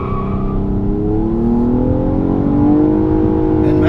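A 2017 Nissan Maxima SR with a 300-horsepower 3.5-liter V6 drives hard through corners, its engine note droning loud and steady from inside the cabin as the pitch climbs and falls with throttle.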